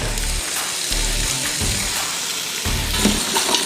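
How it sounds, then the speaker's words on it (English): Food is stirred and sizzles loudly in a hot pan while lamb shanks are cooked, a steady frying hiss with scraping stir strokes throughout, close and continuous, no talk. "Stir all these around for a minute."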